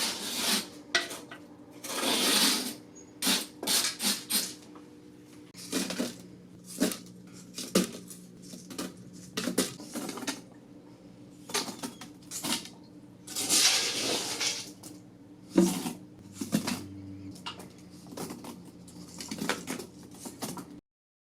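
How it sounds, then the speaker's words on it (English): Rock substrate pours and tumbles onto the glass of a small 5.5-gallon aquarium, giving irregular gritty clatters and scraping rattles with short pauses between pours, close and fairly loud against a quiet background. "you'll just have to listen to the sound of rock falling on the glass"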